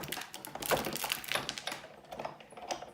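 Layers of cardstock cranked through a Sizzix die-cutting machine, a steady run of close rattling clicks and grinding as the handle winds, continuous for a few seconds with no talking.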